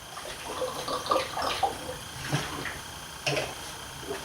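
Water poured into a drink during a workout break: close, moderately quiet splashing and trickling in a few short bursts.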